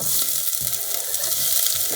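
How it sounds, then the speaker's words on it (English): Onions and garlic sizzle steadily in hot oil, a constant crackling hiss with a few soft stirring scrapes, and no voices. "starting to sizzle."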